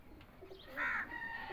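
Safaid Chatri pigeons, a breeding pair kept in Lahore, give a soft, close coo that swells briefly in the middle of the clip over faint background noise, with no voices.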